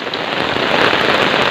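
Heavy rain pours outdoors at a farm where cows are tied up, a dense, loud, unbroken patter close by with no voices.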